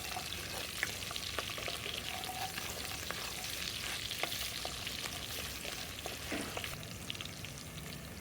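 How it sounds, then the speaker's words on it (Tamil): Garlic, curry leaves and small shallots fry in oil with a steady, dense sizzle and occasional faint stirring sounds underneath. "வெங்காயம் நல்லா இந்த எண்ணெயில வதங்கணும்."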